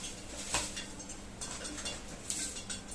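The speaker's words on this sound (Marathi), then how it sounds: "आता हे ब्रेड घेतल्यानंतर आपल्याला असं कट करून घ्यायचं" A metal tin box is pressed down into bread to cut rounds for an upside-down vada pav, giving two brief, light metallic clinks over a quiet room background.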